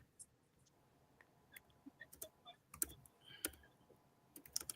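Slow, hesitant typing on a computer keyboard produces sparse, faint key clicks in a quiet room, growing a little busier toward the end.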